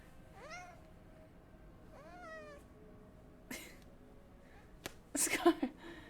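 A cat gives two clear upward-bending meows, followed by a short sneeze-like snort and a cluster of louder rustling and breathy noises at the close.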